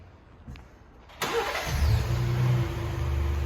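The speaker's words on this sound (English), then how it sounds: "we're gonna turn on the ignition for you right now" A Ford Expedition's ignition is turned and its engine cranks and catches with a sudden jump in loudness, then settles into a steady rumbling idle, heard close with nothing else around it.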